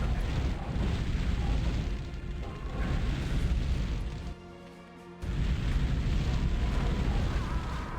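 A flamethrower weapon in a fantasy video game fires a loud, continuous roaring rush that pauses for about a second before resuming just as strongly.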